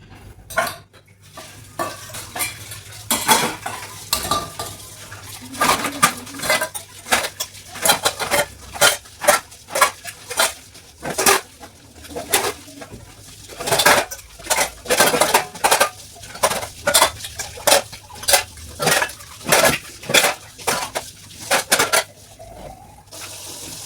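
Steel dishes, pots and cutlery being scrubbed and rinsed in a village kitchen, with repeated clattering clinks and knocks in an uneven rhythm over running tap water, close and fairly loud, no talking.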